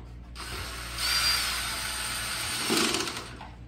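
A power drill on a low torque setting drives screws into a plastic base, whirring in two short bursts close by before the clutch cuts it off.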